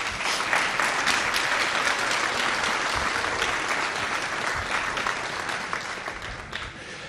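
Dense, sustained applause from a large audience at a 2019 mathematics undergraduate commencement ceremony, steady clapping throughout that tapers slightly toward the end, with no speech over it.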